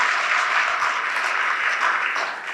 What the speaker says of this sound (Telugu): మన అగ్రపీఠాధిపతికి మన యొక్క చప్పట్లతో అభినందనలు తెలియజేద్దాం